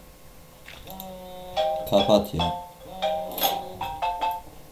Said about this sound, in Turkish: Telefon sesi için.